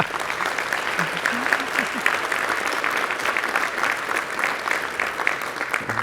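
An audience at a union convention applauds the president's address with dense, steady clapping that holds at an even level throughout, with faint crowd murmur mixed in.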